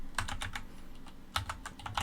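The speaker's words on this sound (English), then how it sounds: "now I'm typing mid-recording" Fingers typing on a computer keyboard in quick, clicky clusters separated by short pauses, close and fairly quiet, with no one speaking.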